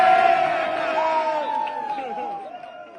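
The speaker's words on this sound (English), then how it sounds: "That is the team cheering in the locker room" Football team cheering and shouting together in a locker room, a loud dense crowd of whooping voices that gradually fades and thins out.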